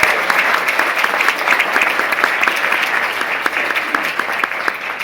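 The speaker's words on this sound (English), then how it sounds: "do you think we could all give a larger round of applause for Amy just for organizing this whole thing?" Audience applause at a two-day conference held at a Hilton, a dense, steady round of clapping from a large crowd sustained evenly for the whole stretch with no talk over it.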